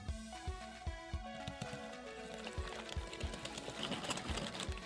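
Electric hand mixer beating creamy cookie dough after an egg goes in, a steady whirring motor with regular rhythmic thumps of the beaters against the bowl, close and moderately loud with no talking.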